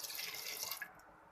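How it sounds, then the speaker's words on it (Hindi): Water trickles and drips into gram flour (besan) batter for khandvi in a kitchen, a soft, close, continuous pouring wash that tapers off near the end, with no voices. "पानी डालते जाएं और साथ में जो ना आप उसको स्पून की मदद से मिक्स करते जाएं"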